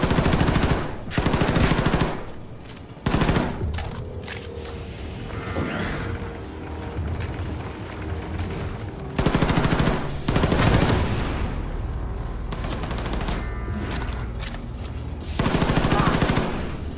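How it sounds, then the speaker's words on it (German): Rapid bursts of automatic gunfire from a first-person shooter, Wolfenstein II: The New Colossus, come in loud volleys separated by brief lulls, with quieter game sounds between the bursts. "Ah, die haben den Beschuss gehört."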